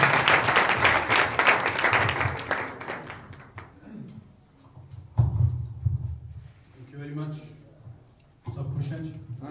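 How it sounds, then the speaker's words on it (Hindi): Seminar audience breaking into clapping, dense and loud at first, then thinning out and fading as voices take over and talk continues in the room. "ताली"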